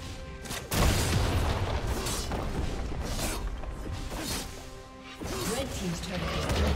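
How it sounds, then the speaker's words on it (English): A turret collapses in a League of Legends match, with loud crashing booms and mechanical clanks layered over game effects, and an announcer's voice talking over part of it. "Red team's turret has been destroyed."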